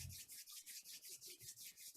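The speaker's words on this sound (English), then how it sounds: "Rub them gently against each other" Palms of the hands rubbing gently back and forth together at chest level, a soft, steady swishing friction repeating in an even rhythm, close and quiet with no talking.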